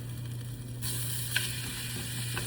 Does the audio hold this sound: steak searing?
yes